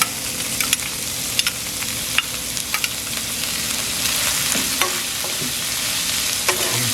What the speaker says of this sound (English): From here, we're gonna go ahead and add in our ground turkey meat.